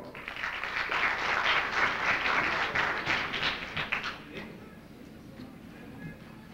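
An audience at an international Kashmir symposium gives a speaker a warm round of applause, steady clapping for about four seconds before it thins out and fades into room noise.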